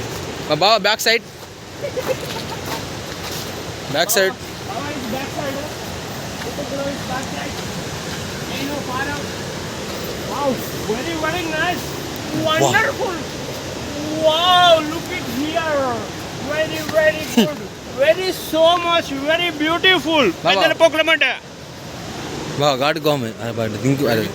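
Steady rushing water at Kuntala waterfalls, a broad continuous roar that runs the whole time beneath people talking.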